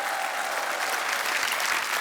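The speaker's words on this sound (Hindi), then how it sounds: "जोरदार तालियां एक बार।" A studio audience claps loudly together in a full, steady burst of applause lasting a couple of seconds, with a faint crowd murmur underneath.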